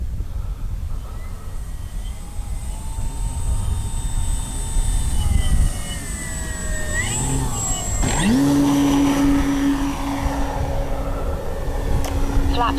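An E-flite CZ T-28 RC airplane makes a touch and go, its steady electric whine shifting pitch as it descends, brushes the ground and climbs away, heard from a moderate distance over outdoor background noise.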